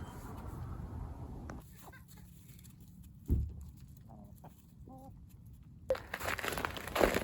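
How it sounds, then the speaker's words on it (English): A friendly backyard chicken clucks softly in short, scattered notes over steady outdoor noise, with a louder rustle partway through and more bustle near the end. "It's a friendly chicken."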